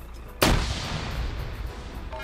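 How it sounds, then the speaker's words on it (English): A grenade blast from a PvP video game match hits as a single loud, booming burst that then rolls and rumbles away over a couple of seconds, with no talk over it. "Ooh, some grenades."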